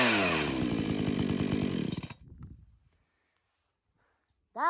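A chainsaw, run as cold-start practice, roars loudly up close, then sputters and winds down to a stop within about two seconds. Silence follows before a brief burst of sound at the very end.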